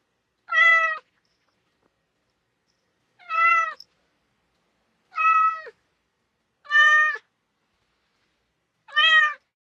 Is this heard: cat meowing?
yes